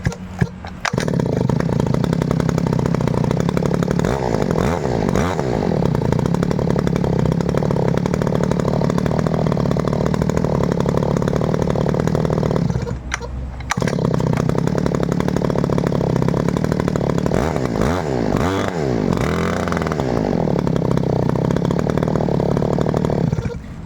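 A Robin NB411 two-stroke brush cutter engine runs loud and close, droning steadily with a buzzy rasp, briefly dipping once before picking back up and revving slightly.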